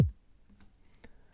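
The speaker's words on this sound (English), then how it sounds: "So here's the original kick sample." A single original kick drum sample from a music production project: one deep, booming thump right at the start that decays quickly, followed by faint small clicks in near silence.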